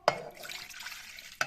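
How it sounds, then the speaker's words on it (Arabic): A cup of cold water poured into a pot while making starch for a Syrian garlic sauce, heard as a short splash and a trickle of liquid ending with a second splash. "انا هنزل هنا بكوبايه الميه بتاعتي"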